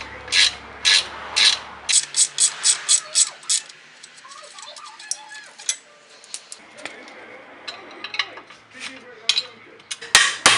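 A ratchet clicks in quick bursts as it loosens bolts on the rear suspension of a 2010 Subaru Legacy, followed by scattered metallic rubs and taps of the parts being handled up close.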